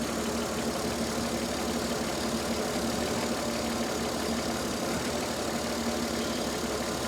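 A 1967 Ford Mustang V8 with Holley Sniper fuel injection idles close by with a slightly surging, uneven note. The rough running hum stays steady and loud throughout, with no voices.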